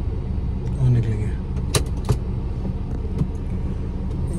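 A car parks outside a hotel in Varanasi, with a low idling engine, a couple of sharp door or latch clunks, and some light clicks. People talk nearby.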